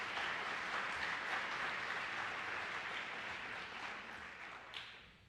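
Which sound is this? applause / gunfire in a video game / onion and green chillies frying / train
applause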